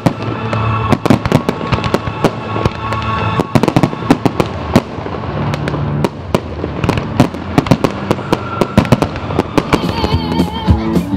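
Fireworks display over a canal bank during a town festival evening, a dense string of sharp loud bangs and crackles at irregular intervals over the steady murmur of a crowd outdoors.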